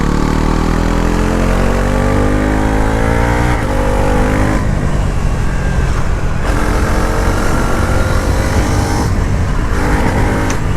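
A Bajaj Pulsar NS 350z engine roars loudly while riding, its pitch rising through the revs and then breaking sharply at several quickshifter gear changes, each shift a quick dip before the drone picks up again.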